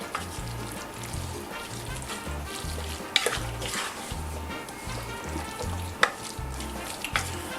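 Grated comté cheese is stirred into a cooled tomato sauce, giving soft wet scraping and squelching from the spoon, with a low rhythmic hum underneath and a few sharper clicks against the pot.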